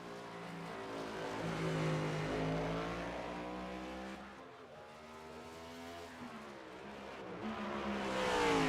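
NASCAR race cars lapping Martinsville in iRacing, engines roaring steadily with rising and falling pitch as they pass, loud and continuous throughout with a brief dip midway.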